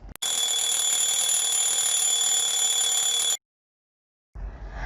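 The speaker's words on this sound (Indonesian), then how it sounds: "Bagaimana bunyi jam waker atau alarm bisa kita dengar?" An alarm clock rings loudly and continuously for about three seconds, a shrill metallic bell tone, then stops abruptly before a burst of noise.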